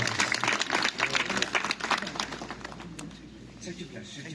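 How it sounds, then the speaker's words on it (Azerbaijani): Applause and clapping from a gathered crowd at a memorial plaque unveiling for a fallen soldier, loud at first and fading away, with voices talking over and after it. "bu igidlərimizin, qəhrəmanlarımızın sağlığına bir alqış deyirik"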